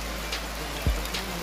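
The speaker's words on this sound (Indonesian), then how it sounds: "Hujannya pun semakin deras tentunya teman-teman." Heavy rain falls steadily in a village in Baduy, a dense, even hiss with a few louder thumps and drips standing out nearby.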